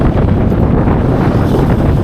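Strong wind buffets the microphone while riding a bike across a bridge in Vung Tau, Vietnam, a loud continuous rumbling roar with no letup.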